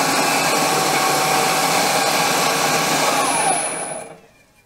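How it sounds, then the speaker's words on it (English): A lathe bores a hole into metal, a steady loud whirring motor hum with a faint tonal squeal that runs for about four seconds and then winds down to quiet, with no talk. "I'm just going to bore down maybe a quarter inch."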